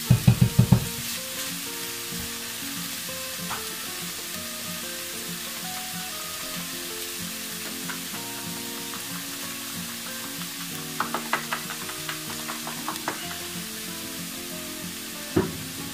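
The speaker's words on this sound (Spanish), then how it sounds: "Os va a sofreír antes y va a quedar con más caldillo." Food frying in a pan of oil while paprika and cumin are added for a weekly meal-prep dish, a steady low sizzle throughout with a few sharper crackles and utensil clicks near the start and end.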